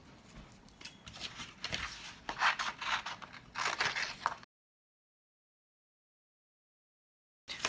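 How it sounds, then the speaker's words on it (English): Scissors cutting paper traced around a hand for a glove template, a series of rough, rasping snips and rustles close by, followed by a stretch of silence and a brief return of sound at the end. "And then all we do is cut."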